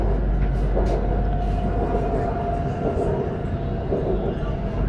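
A BTS Skytrain electric train runs through Bangkok with a steady low rumble and hum heard from inside the car, continuous and fairly loud with faint rattles over it.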